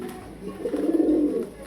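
A pair of pigeons at a farm coos close by, a low murmuring burst that swells in the second half and fades out near the end.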